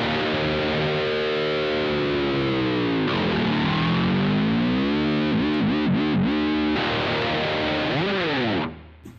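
Heavily distorted electric guitar, an Ibanez RG550 with a Seymour Duncan Black Winter pickup played through a Pocket GT high-gain stack preset, rings out in sustained chords with bends and wavering vibrato, loud and continuous before cutting off at the end.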